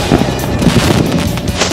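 A firework tube bursts during a Fourth of July celebration, loud crackling pops and booms in a dense, ragged volley close by.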